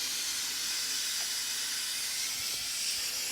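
Steady, loud hiss of a vacuum brake bleeder drawing fluid on a Porsche 997 Turbo, constant broadband suction noise with no pauses and no talking.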